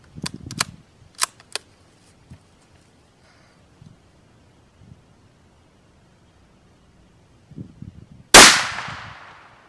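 A single loud, close gunshot from a Marlin XT-17VR rifle cracks out sharply near the end and rings off in a fading tail, after a few faint clicks and handling noises.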